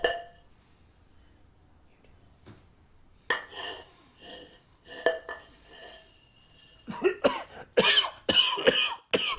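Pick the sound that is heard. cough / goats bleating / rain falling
cough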